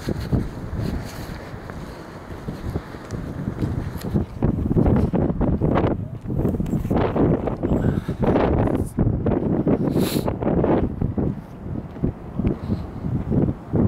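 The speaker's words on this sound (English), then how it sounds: "It's a nice sunny windy day." Strong wind buffets the microphone in loud, rumbling gusts, with a steady low roar throughout and no voices.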